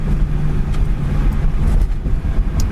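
Engine of a 1969 AMC AMX heard from inside the car during a drive, a steady low rumble with wind and road noise running throughout and no distinct gear-shift moments standing out.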